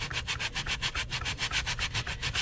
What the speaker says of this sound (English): So I'm going to use like a 220 abrasive sanding sponge.